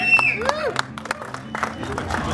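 Brief burst of scattered applause with whoops and cheers from a press-meet audience, mixed with a host's voice and music.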